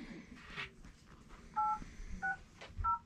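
Phone keypad tones ring out as a number is dialed: a few short, crisp dual-tone beeps in quick succession, fairly quiet, with faint room noise between them.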